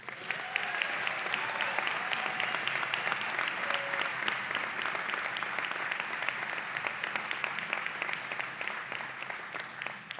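An audience claps at a university presidential installation ceremony, with dense, sustained applause that stays strong and even for the whole stretch without dying away.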